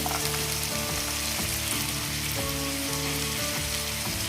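Chopped cluster beans frying in a hot pan make a loud, dense, continuous sizzle with faint stirring scrapes and no voices.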